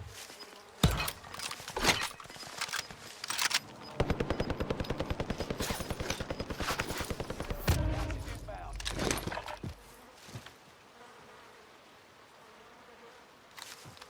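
Gunfire in the video game Warzone: scattered single shots, then a dense automatic burst lasting several seconds, followed by more sporadic shots and quieter game sounds, with a player talking between them.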